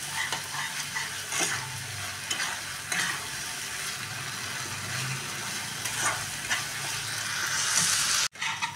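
Rajma masala with mashed potato fries in oil in a home kitchen pan, giving a loud, dense, continuous sizzle with faint stirring strokes that cuts off abruptly near the end.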